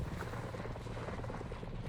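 Video game helicopter rotor drone, a steady low churning rumble held at an even level throughout, with no talk over it.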